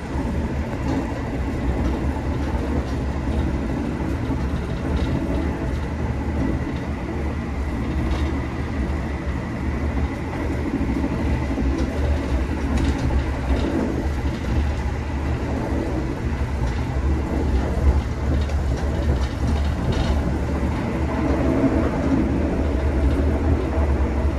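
Steady, loud rumble and rattle of an Argo Semeru executive train running at about 115 km/h through Sukomoro station, heard continuously from on board with no talk.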